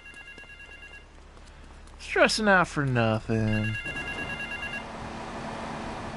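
A payphone rings in the video game Grand Theft Auto III, with a short burst of repeated ringing tones while a voice speaks briefly over it.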